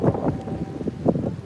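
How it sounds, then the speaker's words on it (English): Gusty wind buffets the microphone at a waterfront on a sunny day, a steady low rumble with stronger bursts near the start and end, loud and close, with no speech. "It's a little bit windy, but it's good."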